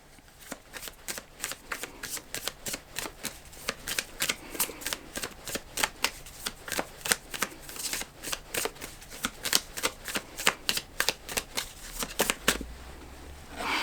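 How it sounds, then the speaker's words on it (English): An Animal Apothecary oracle card deck is shuffled by hand, giving rapid crisp riffling bursts and soft slaps in a steady rhythm, close and quiet, with no talking. "I'm gonna pull one card from the Animal Apothecary deck just to end it."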